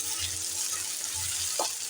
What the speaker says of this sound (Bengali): এরকম করে ভাজা করে নিচ্ছি।